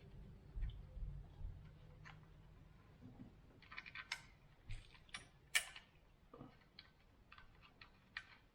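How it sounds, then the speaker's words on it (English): A ratchet tightening a 10 millimeter wire manager bolt back in on a 2006 Lexus IS350 engine, faint irregular clicks and ticks in short bursts, quiet and close. "let's put this one wire manager bolt back in that we took out"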